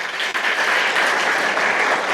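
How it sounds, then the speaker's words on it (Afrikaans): Steady, loud applause from a school audience at a gathering, continuous clapping hands filling the whole moment without pause or voices. "Kom ons gee lekker hande klap vir die Here."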